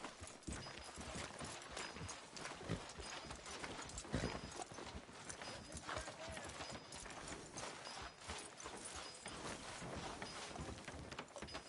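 Horse hooves clip-clop steadily in Red Dead Redemption II, a dense, continuous run of hoofbeats mixed with game ambience and occasional background voices.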